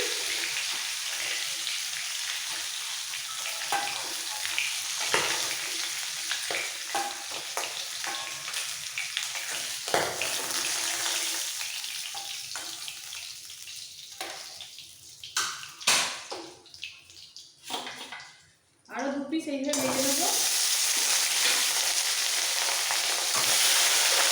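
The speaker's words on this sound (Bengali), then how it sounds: "মাছগুলো সব ভাজা হয়ে গেছে" Fish fry in hot oil in a pan, a steady close sizzle that runs throughout, broken briefly by a stir and clatter near the end before the frying hiss resumes loudly; no one speaks.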